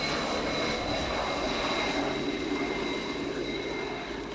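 Ukrainian Air Force Sukhoi Su-27 jet coming in to land at an airshow, a loud sustained engine roar with a high whine that slowly fades slightly.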